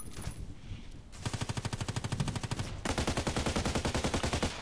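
An HK 243 light machine gun in the shooter game Contract Wars fires long, rapid automatic bursts. Two sustained strings of loud, evenly spaced shots follow a short quiet start.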